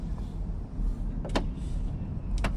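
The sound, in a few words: Range Rover Sport P510e glass sunroof opening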